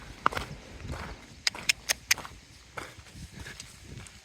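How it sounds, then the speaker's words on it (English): Horse hooves clip-clopping on a mountain trail near Almaty, Kazakhstan, a handful of sharp, uneven knocks close by with quiet outdoor ambience between them. "So many horses here in Kazakhstan."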